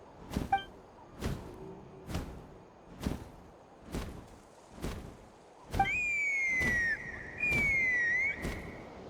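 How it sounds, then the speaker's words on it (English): In Genshin Impact, a clear whistle rises and glides in long tones, sliding pitch twice over a slow, regular series of soft thuds like footsteps. "That sounded like a whistle."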